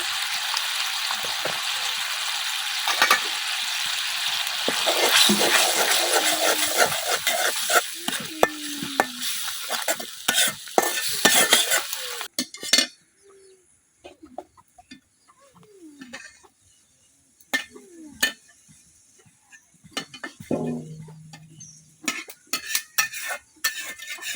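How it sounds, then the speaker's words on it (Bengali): Ground spices (salt, turmeric, chilli, roasted cumin) are stirred and fried in a pan for a Bengali koi fish curry: a loud sizzle for the first half, then scraping spatula strokes and clinks against the pan, with no speech. "এখন মশলাটা কিছুক্ষণ কষাই নেম।"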